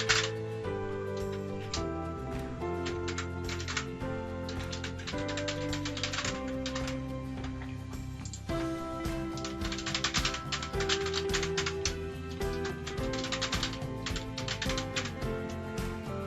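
Rapid, steady keyboard clatter continues without a break as someone types details into an online sign-up form, the close key clicks forming a dense stream with no speech.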